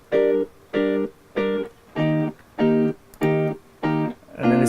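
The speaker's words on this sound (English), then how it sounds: "Yeah, so these are just the reggae guitars." Layered reggae guitars with compression and reverb play short, clipped offbeat chord stabs, eight evenly spaced hits in a steady skank rhythm, close and clear with nothing else over them.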